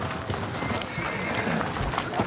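Icelandic horses are driven down to a collection point on a festive roundup day, hooves clattering amid a dense, noisy outdoor din with whinnies rising through it and faint voices.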